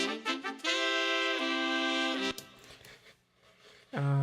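Horn section of two trumpets and two saxophones playing together: a few short stabs followed by sustained chords shifting downward, bright and full, then fading into a brief quiet stretch before a voice begins.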